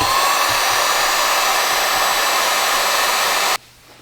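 A heat gun blows steadily and loudly up close while it shrinks clear heat shrink tubing over an ELRS receiver board, then cuts off abruptly near the end and leaves a quiet room.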